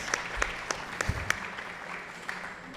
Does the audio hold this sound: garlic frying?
no